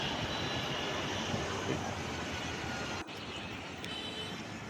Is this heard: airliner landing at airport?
yes